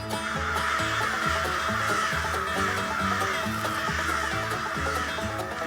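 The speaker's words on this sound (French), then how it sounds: "Les corneilles par dizaines tourbillonnent au-dessus de la ville." Crows in winter caw repeatedly over a Quebec town, drawn in by a Fox Pro electronic caller; loud, overlapping calls in a steady stream with no talk.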